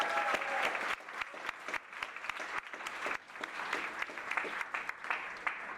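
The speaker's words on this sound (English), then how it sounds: "Big round of applause." Guests at an end-of-year recognition dinner applaud the graduating class of 2024, with a full, steady round of clapping and crisp nearby claps over a murmur of voices early on.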